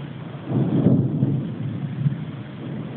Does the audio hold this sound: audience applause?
no